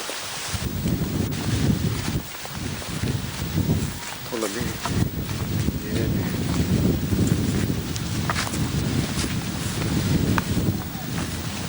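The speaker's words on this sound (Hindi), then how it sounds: "हवा चलती है बहुत जोर की। नदी किनारा जब हवा चलती है।" Strong wind gusting at a riverbank, buffeting the microphone in a heavy low rumble that swells and eases throughout, while people talk over it.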